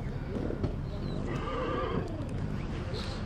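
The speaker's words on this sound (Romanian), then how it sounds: "astăzi e plin de cai, dragi" Horses neigh and whinny amid the crowd at a large horse fair and exhibition in Trei Movile, Bucovina, with hoof clops and steady crowd chatter filling the background throughout.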